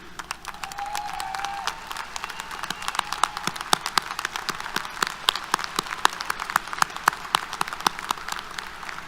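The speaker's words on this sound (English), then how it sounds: "could you please stand and help me applaud our new group of members?" A standing audience at a Texas A&M University-Corpus Christi summer graduation ceremony applauds the new graduates, steady dense clapping from a large crowd that carries on for the whole span.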